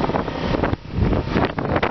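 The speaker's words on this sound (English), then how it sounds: "It's windy." Gusty wind buffeting a microphone outdoors along an off-grid fence line by campers, a loud rumbling roar that surges and briefly dips, with no talk.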